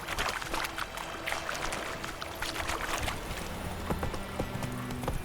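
Horse hooves clip-clop on a road in The Witcher 3, a steady near trotting rhythm over a wet, splashy background wash.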